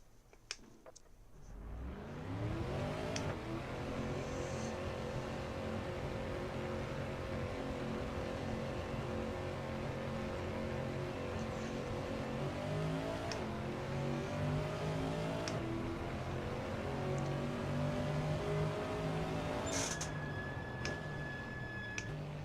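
Race car engine in Assetto Corsa at Monza drones steadily and loudly for the whole stretch, rising in pitch through long gear pulls with a few shifts, no voices over it.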